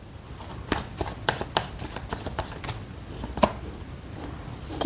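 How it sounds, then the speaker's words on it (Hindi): Tarot cards being drawn from a deck make a run of soft, papery flicks and snaps at an uneven pace, close by and fairly quiet, with no voice over them. "ओके, चलिए कार्ड्स निकालते हैं"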